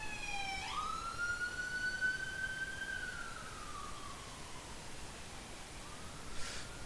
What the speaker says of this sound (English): Darn siren.